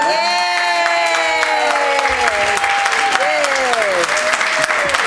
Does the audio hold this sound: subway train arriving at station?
no